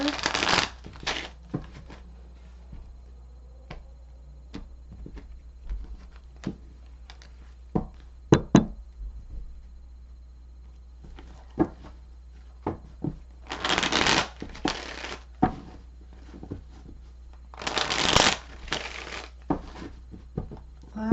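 Playing cards shuffled during a tarot reading, with crisp riffling bursts separating quieter stretches of soft card handling, fairly close and alone.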